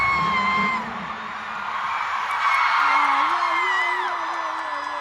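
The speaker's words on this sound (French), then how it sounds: "Ça crie fort de fou, gros." A concert crowd at a K-pop show screams loudly in a sustained, dense roar that swells and dips, with shrill cheers and whoops rising above the mass of voices.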